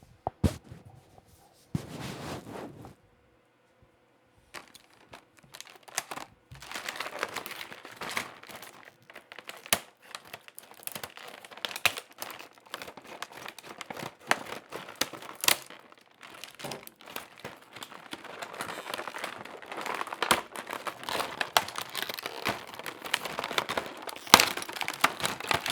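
New hand tools are pried and cut out of stiff plastic blister packs, with sharp crinkling, cracking and tearing of plastic in irregular close bursts, quiet at first, then busier and denser, with no speech.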